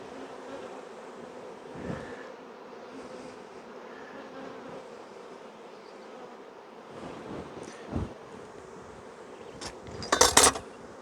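A honey bee colony hums steadily from an opened hive, a continuous low drone close by, with scattered clicks and scrapes of hive tools and frames and a sharp metallic clatter near the end.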